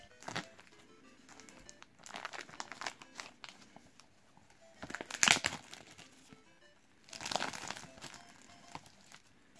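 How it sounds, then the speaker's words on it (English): Plastic wrap peeled off a Super Mario 3D World steelbook case, close crinkling and tearing in several bursts separated by quiet pauses, with a sharp louder rip near the middle. "So now let's peel this plastic off."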